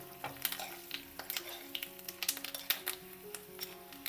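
Hot oil sizzling and crackling with quick irregular pops as cashews and turmeric are tempered in a pan; fairly quiet and close, no talking.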